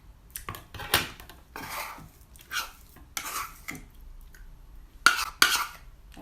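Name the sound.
mixing chocolate and honey with a spoon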